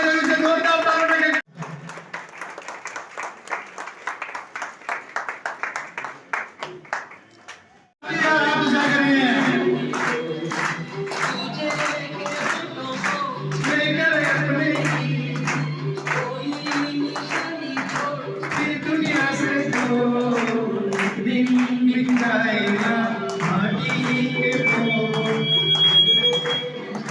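Audience clapping at a Rana Samaj community matrimony app inauguration event, a sustained burst of applause with music playing, continuous and fairly loud after a brief quieter start.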